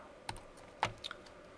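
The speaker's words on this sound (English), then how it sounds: "I wish you could see what I was typing." Computer keyboard on a Windows PC typed on lightly, a few sparse clicking keystrokes close by and fairly quiet over a faint background hum.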